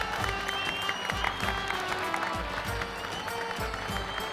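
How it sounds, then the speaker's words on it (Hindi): Applause from a stage-show audience at a patriotic performance, a dense steady wash of clapping with crowd noise and music-like tones underneath, holding at an even level throughout. "एक बार जोरदार तालियां।"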